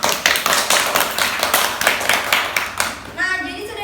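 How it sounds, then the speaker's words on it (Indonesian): A classroom of students claps together in a rhythmic, roughly unison beat, with about a dozen distinct loud claps in quick succession. Near the end the clapping stops and a voice begins speaking. "Bagus semuanya. Tepuk tangan dulu."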